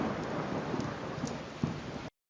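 Heavy rain falls in a steady, loud hiss, with deep thunder rumbling underneath. The downpour continues without a break for about two seconds and then stops abruptly.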